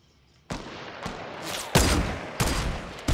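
Gunfire in the video game Fortnite: several sharp shots and short bursts crack one after another over about three seconds, loud and close, with no talking.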